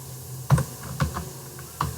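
Python code being typed on a computer keyboard: a few separate key clicks, fairly close and moderately loud, spaced irregularly over a quiet room background.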